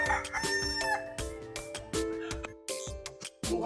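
A rooster crows loudly and close by in a rural provincial yard, with repeated harmonic calls and clucks in an uneven rhythm.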